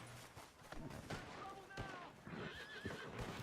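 A horse whinnies sharply over a noisy Red Dead Redemption 2 game soundscape with hoofbeats, distant gunfire and a voice talking.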